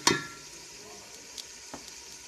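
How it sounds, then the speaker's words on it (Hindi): Yogurt hits a pan of sizzling mustard greens with a sharp burst of frying, then a soft steady sizzle and a few light clicks of stirring, close and fairly loud, with no talking. "अब इसमें थोड़ा सा दही डालूँगी।"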